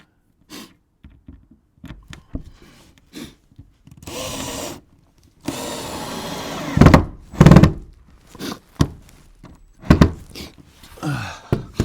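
A power driver runs screws into loft boarding in a new-build garage loft, with short bursts of whirring, several knocks and thunks, and brief pauses between them.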